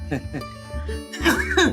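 A few short, harsh coughs burst out close by, mixed in with a voice talking.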